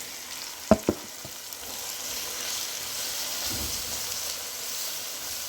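Spices for mutton curry fry in a pot with browned onions, a steady soft sizzle under two sharp clanks from a spoon against the pot near the start.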